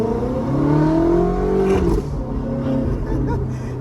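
A Ferrari F430 engine revs up with a rising whine, then drops sharply as it shifts into second gear and pulls on. The sound is loud and close, with faint talk underneath.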